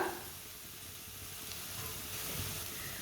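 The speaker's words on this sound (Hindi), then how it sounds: "धनिया और ज़ीरे को भी रोस्ट कर लेंगे।" Whole cumin seeds roast in a pan with a soft, low sizzle and light crackle that continues gently throughout, heard close and alone without speech.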